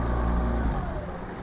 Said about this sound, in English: if you hit idle, it'll take the engine to idle.